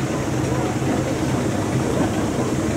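Steam traction engines moving out at a vintage steam rally, a steady low mechanical rumble and chuffing drone throughout, with faint voices in the background.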